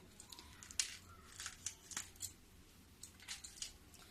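A kitchen knife cuts through capsicum and cauliflower pieces for a mixed pickle, giving a series of short, crisp crunching and snipping slices at an irregular pace, moderately close and fairly soft, with no voice.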